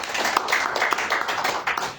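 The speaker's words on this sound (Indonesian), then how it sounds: "Beri tepuk tangan yang meriah buat Tuhan" A church congregation claps together in a quick, steady rhythm, dense overlapping hand claps filling the room at close range.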